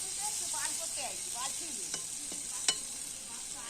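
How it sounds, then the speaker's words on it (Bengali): Grated ginger stirred into softened tomato in a hot pan, a steady sizzling hiss with a few quick spatula scrapes and one sharper knock near the end. "এবারে একটুখানি নাড়াচাড়া করব।"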